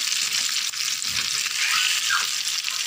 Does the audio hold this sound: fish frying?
yes